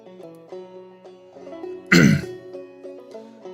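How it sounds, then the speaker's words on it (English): A single close, loud throat clearing from someone with a cold cuts briefly through quiet background music, then the music continues alone. "Sorry that I keep clearing my throat on you guys."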